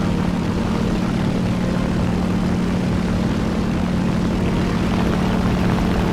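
A slow propeller aircraft engine in the video game War Thunder drones loud and steady, with a constant low hum and a broad rushing roar throughout, no talk.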